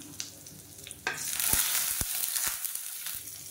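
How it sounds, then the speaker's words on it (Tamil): Mustard seeds splutter and crackle in hot oil in a pan with a dried red chilli and curry leaves, a steady close sizzle broken by several sharp pops and taps, with no voices. "கடுகு வெடிக்க ஆரம்பிக்குது"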